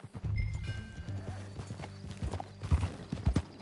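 Horse hooves clip-clop steadily in the Red Dead Redemption 2 video game, close and fairly quiet, with a horse whinnying partway through and a faint voice briefly in the background.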